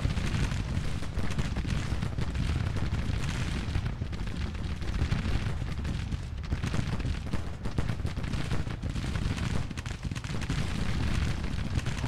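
Union rifle volleys from Burnside's troops roll across a Civil War battlefield in Grand Tactician, a dense continuous crackle and rumble of massed musketry with distant booms, steady and unbroken throughout.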